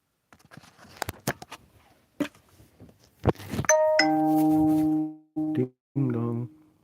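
A doorbell sounds a clear, loud two-part chime, its sustained ringing tones following scattered clicks and tapping noises nearby, with a short second chime after a brief pause.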